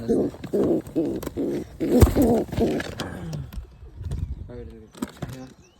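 A wild pigeon coos in a series of repeated low, soft, rounded notes in steady rhythm, close and clear, with brief pauses and a few other small sounds in between.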